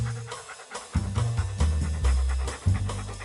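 A dog pants in quick rhythmic breaths, fairly close and steady, over a low droning background with no talk.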